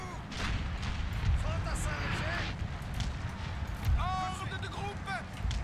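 Cannon artillery fire in the Napoleon Total War video game, repeated muffled booms and thuds under game sounds, with people talking over it.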